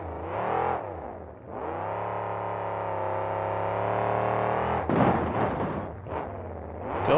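A monster truck engine roars at an indoor arena event in Detroit, revving to a long sustained high whine, dropping off, then surging again in sharp bursts as the truck lands from jumps.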